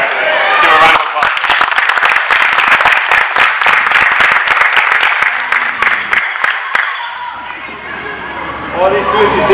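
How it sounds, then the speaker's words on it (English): A jiu-jitsu club audience gives a loud, sustained round of applause during a belt ceremony, crisp dense clapping near and full, tapering off toward the end as murmured voices come in. "Let's give a round of applause."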